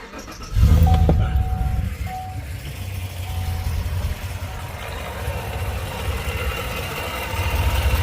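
A Whipple-supercharged 2016 Chevrolet Silverado with an upgraded 4-inch air meter, still being tuned and with a suspected small exhaust leak, starts and settles into a steady, loud, close idle rumble with no voices.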